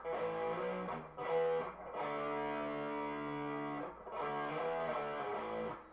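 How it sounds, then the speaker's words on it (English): Heavily distorted electric guitar strums sustained power chords from the chorus, with a few short chord changes and brief choppy hits in between, loud and alone. "we're going into the chorus, which is all power chords"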